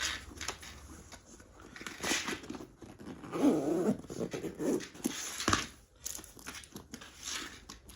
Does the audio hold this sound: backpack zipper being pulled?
yes